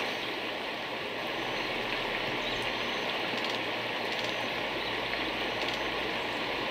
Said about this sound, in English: The rain just sounds so relaxing.